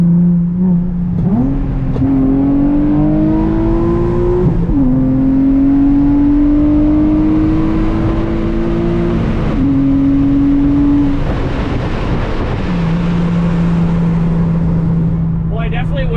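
A Nissan 350Z engine drones close by, its steady tone climbing through several gear changes as the car pulls away and accelerates, with voices faintly present underneath.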